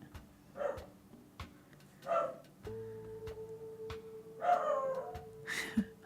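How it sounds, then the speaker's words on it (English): A dog barks indoors in short separate bursts, a few barks spaced a second or two apart, moderately loud and slightly distant, over quiet room noise and a faint steady tone. "He's probably barking at a passerby or something."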